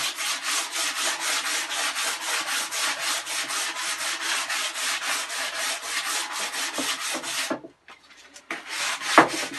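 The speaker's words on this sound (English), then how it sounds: "start sanding it by hand then" Rhythmic, scratchy back-and-forth rasping of sandpaper on wood by hand during a narrowboat fit-out, steady strokes for several seconds before stopping, followed by a brief sharp knock.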